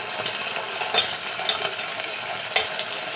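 Sardines sautéing in hot oil in a home kitchen pan, a steady close sizzle with a few sharper spatter pops rising above it, no voices.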